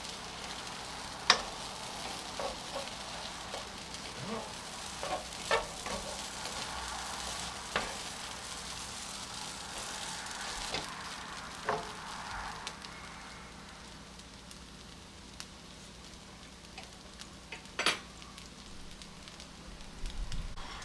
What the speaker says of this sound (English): So now we're going to mix that up.